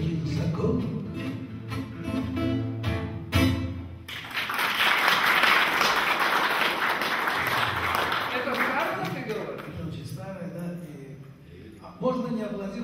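A concert audience at the Caucasian House bursts into loud, dense applause after a song, swelling and then fading over several seconds, with singing and talk before and after.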